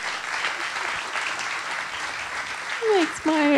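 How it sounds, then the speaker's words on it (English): An audience at a book conversation event claps in a steady round of applause, with someone speaking briefly over it near the end. "I just want to give Emma a big round of applause for all that she has shared."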